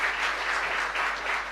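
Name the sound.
congregation applause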